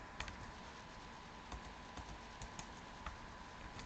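Close, steady typing on a computer keyboard, with soft rapid key taps and a few sharper clicks over a faint background hiss.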